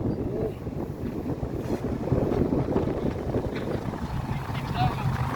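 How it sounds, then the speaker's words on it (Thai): Strong wind buffets the microphone outdoors at a roadwork site, a continuous rough roar with gusts, and a voice talks over it. "ลมแรงครับ ลมแรงพี่น้อง"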